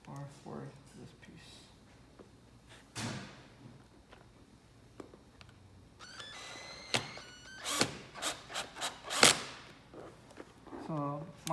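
A power drill drives screws into an aftermarket Type R style bumper on a 2016-2018 Honda Civic, a series of short whirring bursts in the second half after someone talks.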